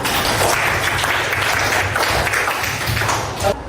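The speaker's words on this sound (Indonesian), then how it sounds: "Tepuk tangan." Steady classroom applause from a group of students, a dense, continuous patter of hands that holds at an even level and fades slightly near the end, with no talking over it.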